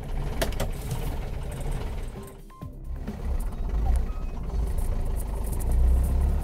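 A modified Ambassador car with a five-speed column-shift gearbox runs with a steady, close engine rumble that dips briefly as it is revved and settles, then builds again, with no talking.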